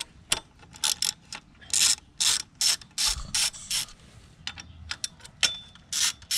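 A ratchet removes Torx bolts on a 2018 Triumph Street Triple 765 motorcycle, giving close, quiet bursts of rapid clicking in an irregular rhythm with short pauses between strokes.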